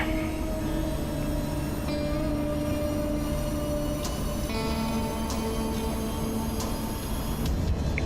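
An aircraft engine mill, powered on with its blower running, gives a steady droning hum with sustained tonal whines. The sound stays loud and constant throughout, with no speech.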